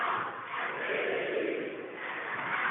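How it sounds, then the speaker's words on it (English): Home crowd of Aliquippa fans cheering together in a high school basketball gym during a PIAA boys playoff game, a sustained, loud, dense roar from many voices filling the whole moment. "And there's the Aliquippa cheer."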